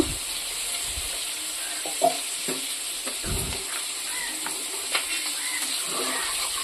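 A fish head and moong dal are stirred in a pot, giving a soft sizzling bubble with a few sharper scrapes and knocks of the spoon against the pot, all fairly quiet and close.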